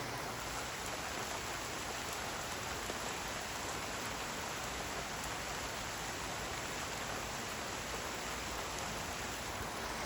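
Heavy morning rain falls in an even, unbroken wash of hiss and patter, steady and moderately quiet throughout, with no voices.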